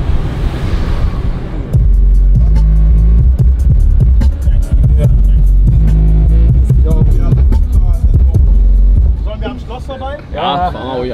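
A six-metre Mercedes W124 stretch limousine on air suspension pulls away, its deep, steady engine throb swelling and holding loud for several seconds before easing off, with people talking over it.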